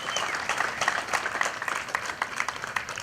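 A crowd at a ceremony gives a round of applause for veterans, a steady wash of many hands clapping at moderate distance, continuous and even throughout with no talk on top.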